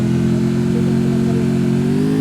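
A video game motorbike engine drones steadily while riding, a loud constant mid-pitched hum that shifts slightly upward near the end, with no talking.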